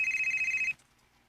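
Telephone ringing, a bright electronic trill pulsing for under a second before cutting off, leaving quiet room tone.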